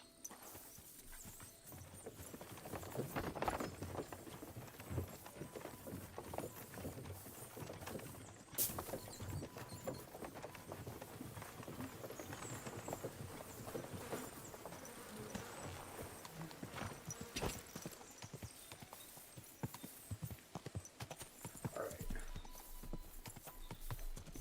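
A horse in the video game Kingdom Come: Deliverance 2 gallops with rapid, continuous hoofbeats, fairly faint, with insect-like buzzing in the background.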